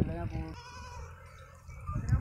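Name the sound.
Sindhi goats bleating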